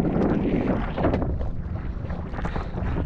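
A fishing boat engine runs out at sea on the Pacific, a loud, continuous low rumble mixed with wind buffeting and water noise, with no voices.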